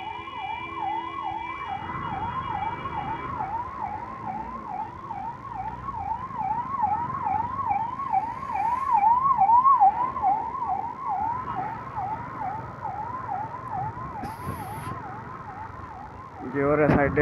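An ambulance siren wails in a steady, rapid rising-and-falling pattern through Bengaluru traffic in the Rajajinagar area, loud and continuous against a background of road noise, with a brief horn-like burst near the end.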